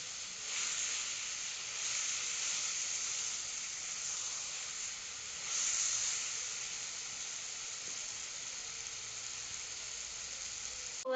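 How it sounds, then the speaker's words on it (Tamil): Brinjal, onion, tomato and garlic sauté in a pan with a steady, soft sizzle that holds evenly throughout, swelling slightly midway, with no voices over it. "கத்திரிக்காய் வெங்காயம் தக்காளி பூண்டு எல்லாம் வதங்கிச்சு"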